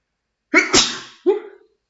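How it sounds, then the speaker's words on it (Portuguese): One close, sharp human sneeze bursts out of silence, followed a moment later by a shorter trailing exhale, all in an otherwise quiet room. "Calma aí que eu vou espirrar."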